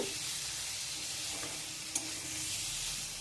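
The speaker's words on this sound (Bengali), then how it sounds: "ভেজে রাখা পটলগুলো আমি দিয়ে মশলার সাথে নাড়াচাড়া করব" Fried pointed gourd pieces being stirred into hot oil and spice masala for a rich pointed gourd curry: a steady close sizzle with scraping spoon strokes and a brief clack near the middle, no talking.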